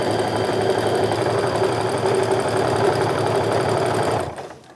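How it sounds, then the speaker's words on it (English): A sewing machine runs steadily while stitching the corners of a tote bag, a continuous close whirring hum that fades out at the very end. "at least my corners are sewn by machine"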